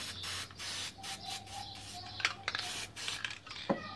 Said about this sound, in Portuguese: Vamos jogar o spray aqui, ó, na vasilhinha.